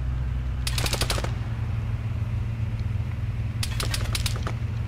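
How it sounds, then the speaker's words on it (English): Two short bursts of automatic rifle fire in the video game Arma 3, each a quick string of sharp cracks, separated by a few seconds over a steady low engine-like drone. "I'm already taking fire from an auto rifleman"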